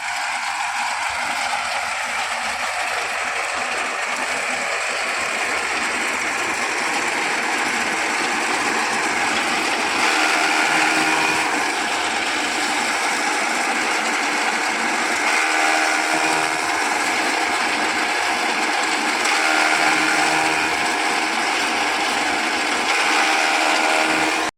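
A fodder cutting machine on a dairy farm runs steadily throughout, a continuous loud mechanical whirring and chopping with rattling, gear-like texture and no pauses.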